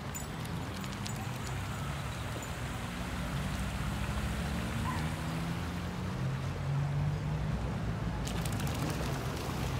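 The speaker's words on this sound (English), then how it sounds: "Can walk through the waterfall?" Waterfall water flows in a steady, continuous rush, loud and close, with no break across the whole stretch.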